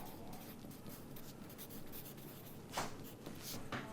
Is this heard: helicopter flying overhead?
no